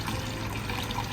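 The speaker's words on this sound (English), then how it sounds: "Water fresh from the mountains." Fresh mountain water runs from a village fountain in medieval Entrevaux, a steady close splash and gurgle that carries on throughout with no talk.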